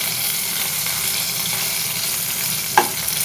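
Fish frying in a pan, a steady dense sizzle throughout with a single brief clink of a utensil near the end, close and alone with no talk.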